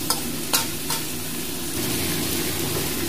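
Finely chopped banana flower of the bhimkol banana frying in a pan with meat, giving a dense, continuous sizzle, with a few quick utensil clicks near the start and no voices.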